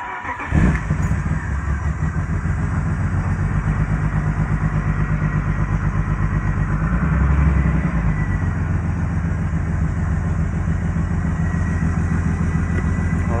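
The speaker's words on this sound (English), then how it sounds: "Oh, it's idling rough." BMW E36 engine idling roughly after an oil pan job, a close, steady low throb with an uneven pulse and a brief swell of revving partway through, heard alone without talk.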